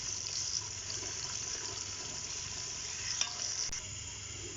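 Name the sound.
onions stirred while frying in hot ghee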